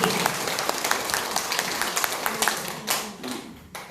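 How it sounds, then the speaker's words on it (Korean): An audience at a lecture claps together, a dense patter of hands that swells briefly, then tapers off with a few scattered claps at the end. "우리 찬성하는 사람 박수 한번 칩시다."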